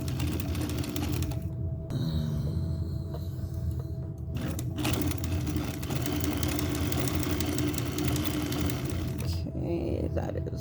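A Kenmore 1813 sewing machine stitches in a continuous, rapid mechanical whir with a rhythmic slapping clatter, briefly pausing a few times, and a person talks over it.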